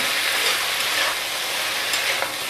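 Ash gourd fries in a hot pan with a steady sizzle, while a few soft scrapes of stirring rise above the constant hiss, close up and with no voices.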